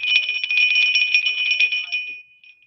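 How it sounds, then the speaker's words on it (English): A small crotal bell jingles rapidly and brightly for a couple of seconds, then the ringing tapers off into a fading metallic tone. "And a crotal bell."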